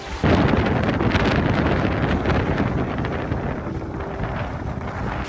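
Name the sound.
strong wind while sailing a dinghy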